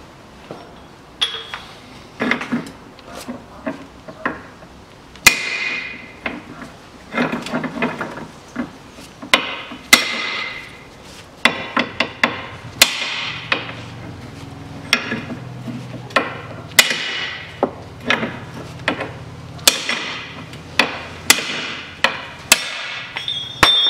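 Hammer blows drive out the front ball joint on a 2006 Hyundai Accent 1.5, with sharp metallic strikes repeating in uneven bursts for over twenty seconds, close and loud in a workshop.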